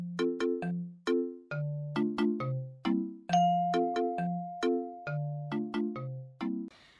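A clean electronic ding-dong notification chime plays a bright, melodic sequence of two-tone bell notes in steady rhythm, close and clear with nothing else heard.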